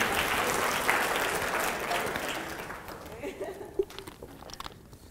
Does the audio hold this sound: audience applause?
yes